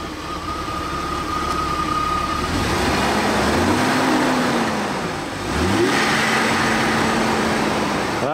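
A Jeep engine running steadily just after a start following a throttle problem, close and loud, with pitch rising and falling as it revs up and settles twice, no speech over it.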